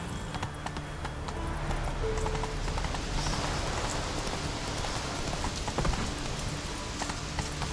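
Hooves of a horse galloping across open ground in The Witcher 3, a steady rapid clip-clop with a rain-like wash, no talking.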